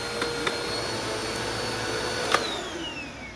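Bissell CleanView Rewind Swivel upright vacuum running with a worn belt, a steady loud motor roar with a high whine whose pitch sags slightly toward the end, close and continuous.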